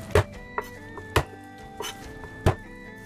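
Garlic cloves are roughly chopped with a knife on a board, giving a handful of sharp, irregular thunks, some louder than others, close by and with no voice over them.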